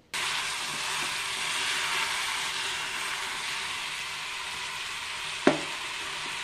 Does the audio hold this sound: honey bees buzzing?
no